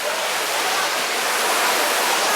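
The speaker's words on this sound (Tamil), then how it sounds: "அந்த பக்கத்துக்கு போகிறதுக்கு இந்த நீர்வீழ்ச்சியை நம்ம கடந்து தான் போகணும்." The Hogenakkal waterfall roars as a loud, steady broadband rush of falling water close by.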